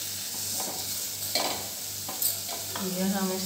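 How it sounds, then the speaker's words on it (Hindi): Soya chunks fry in hot oil in a pot, giving a steady close sizzle with a few louder crackling bursts and a low hum underneath. "ये देखो, अच्छी तरह फ्राई हो गई"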